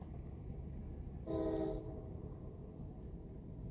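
A train passing on a city line, with a loud horn-like tonal blast rising briefly mid-clip over steady rumbling rail noise.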